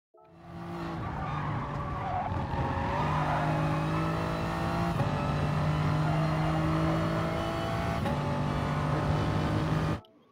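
A GR3 race car in GT Sport powers out of a corner at Autodrome Lago Maggiore, its engine droning loud and steady with tires squealing, held for about ten seconds before cutting off abruptly.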